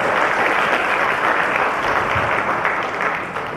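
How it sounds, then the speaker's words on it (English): A large entrepreneurs' summit audience gives itself a big round of applause, a thick, continuous roar of clapping filling the room and easing off slightly near the end. "Give yourself a big round of applause"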